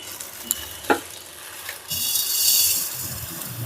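Sugar is stirred in a pan to make caramel, with light scraping and small knocks that give way to a louder, steady hiss partway through.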